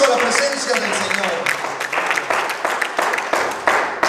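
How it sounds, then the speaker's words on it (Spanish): A church congregation claps together through the whole stretch, with dense, uneven hand claps that rise and fall in waves and a voice speaking over part of it. "Fuerte el aplauso a la presencia del Señor."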